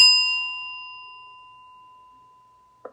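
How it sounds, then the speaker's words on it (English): A small bell is struck once, giving a clear, bright ding whose pure ringing tone decays slowly over a few seconds in a quiet room, and a faint voice begins just as it fades out. "It's this little bell."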